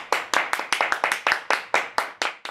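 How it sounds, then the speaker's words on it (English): A small studio audience claps in a rhythmic pattern to welcome a guest onto a bike talk show, with about a dozen distinct close claps in quick succession. "Let's welcome onto the show with a warm round of applause."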